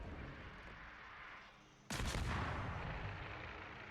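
Warship guns fire in a naval combat video game: a single loud, sudden blast cuts through steady background rumble and then rolls into a long, slowly fading boom.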